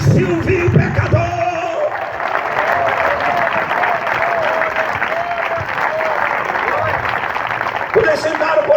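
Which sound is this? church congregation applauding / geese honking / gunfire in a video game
church congregation applauding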